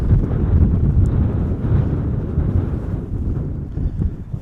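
Strong, pounding wind at Schiphol Airport buffets the microphone in a loud, continuous low rumble with gusty swells, with no other distinct sounds.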